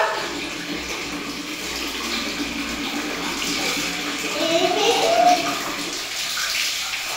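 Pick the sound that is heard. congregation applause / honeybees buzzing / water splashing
water splashing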